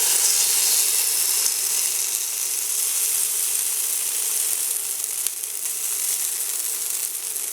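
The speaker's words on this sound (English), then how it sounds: "we're going to stir fry the tomato paste for a minute or so" Tomato paste sizzles and fries steadily in a pan alongside browned onion, garlic and mint, a dense continuous hiss for an eggplant and tomato-mint sauce, loud and close with a couple of faint clicks of stirring.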